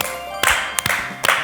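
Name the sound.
clapping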